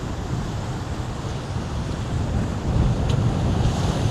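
Ocean waves breaking on a Hawaii shore, a steady roar of surf with wind buffeting the microphone, swelling louder as a bigger wave crashes near the end.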